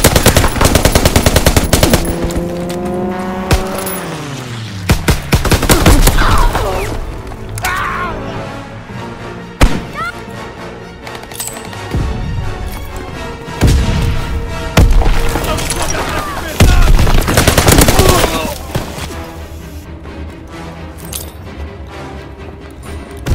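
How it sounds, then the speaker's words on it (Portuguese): Enemy machine gun bursts in the World War II shooter Call of Duty: WWII on the Aachen map, loud rapid rattling volleys with scattered shots, booms and mechanical clanks through a chaotic firefight. "Rajada do inimigo chegando!"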